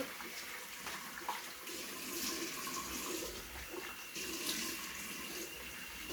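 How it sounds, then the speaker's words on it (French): Water splashing and running during a facial rinse, a soft continuous wash like a tap or basin with gentle splashes, fairly faint and close, no speech. "Je vais maintenant rincer le visage."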